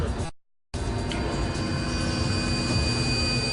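Jet aircraft passing overhead, a broad continuous roar with a high whining tone, steady and loud after a brief dropout near the start.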